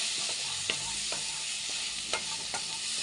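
Round brinjal fries in a pan for brinjal gojju, a dense, even sizzle throughout with a few light spoon scrapes and taps stirring the pieces, no voices.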